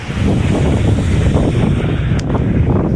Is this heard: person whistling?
no